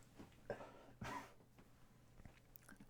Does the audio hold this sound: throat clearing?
yes